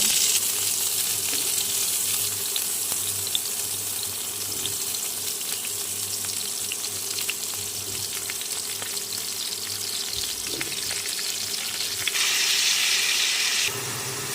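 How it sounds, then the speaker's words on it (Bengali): Potato pieces frying in hot oil in a home kitchen, the same oil just used to fry pointed gourd; a steady, continuous sizzle holds throughout with no talking. "একই তেলে আমি আলুগুলো ভেজে নেব"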